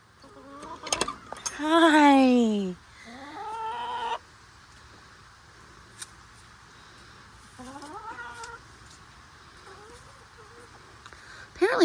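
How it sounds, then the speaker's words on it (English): Backyard hens in a summer garden give one loud, drawn-out squawking call followed by a few softer, shorter clucks, with a brief spoken greeting nearby and quiet outdoor ambience between calls. "Hello, sweet chicken girls."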